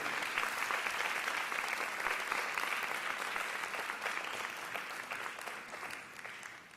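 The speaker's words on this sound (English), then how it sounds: "give your parents, family members, and all of your supporters a round of applause" Sustained applause from a graduation ceremony audience, a dense continuous clapping crowd that holds steady and then gradually tapers off toward the end.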